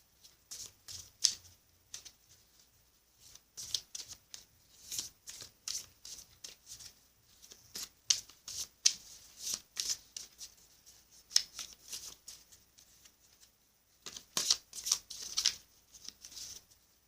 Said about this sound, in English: One more shuffle and then I'll cut the deck for you.